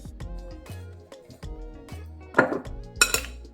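Chopped garlic is stirred into a bowl while preparing Guyanese garlic beef, with a spoon scraping and clinking against the bowl in a quick run of close, uneven taps.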